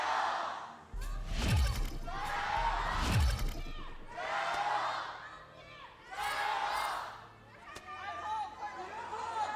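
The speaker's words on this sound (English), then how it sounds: "as we get to hear some cheering for the crowd" Crowd cheering and chattering fills a large esports arena in Shanghai during a League of Legends LPL match, swelling in several waves, with a commentator's voice talking over it.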